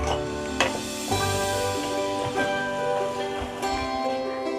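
A thick spice masala with two spoons of poppy seed paste is sautéed in a pan, sputtering and sizzling steadily up close, with repeated scraping strokes of a spoon stirring through it.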